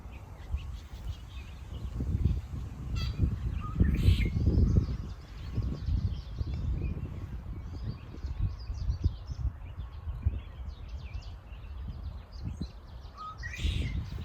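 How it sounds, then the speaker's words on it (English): Outdoors in early March around Vancouver, BC, a red-winged blackbird gives a couple of scattered song phrases at a distance, set against rustling and a continuous low outdoor rumble. "That's the song, red-winged blackbird."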